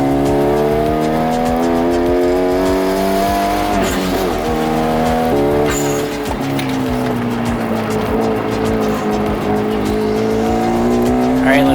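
A 2014 Hyundai Genesis 2.0T lapping Stratotech Park racetrack, its turbocharged four-cylinder droning loudly up and down through gear changes, with brief tire squeal in the corners and a voice speaking over the engine.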